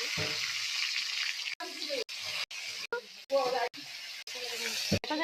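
Bhakur fish sizzles in hot oil in a kadhai, a loud steady hiss broken by several brief gaps, with spatters and faint kitchen noises over it.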